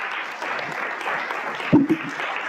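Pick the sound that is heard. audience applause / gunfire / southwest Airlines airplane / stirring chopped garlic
audience applause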